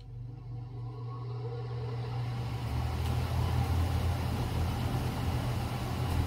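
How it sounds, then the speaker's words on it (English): An ILG Model 243 24-inch self-cooled quarter-horsepower motor fan starts up and runs, a low steady hum and whoosh of moving air that swells gradually and then holds at an even, moderately loud level with no talking. "this is the ILG Model 243 24-inch self-cooled motor fan. And we're going to do a little quick start up and run."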